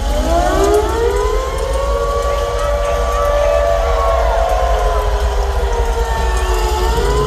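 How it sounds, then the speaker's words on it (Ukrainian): A loud air raid siren wails steadily at a concert, its rising and falling tone sustained throughout with low rumbling noise underneath. "Звук колокола змінюється на звук сирени повітряної тривоги."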